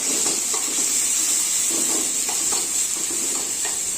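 Salted vegetable mixture for a thoran is stirred in a frying pan, soft repeated scrapes riding over a steady, close sizzling hiss.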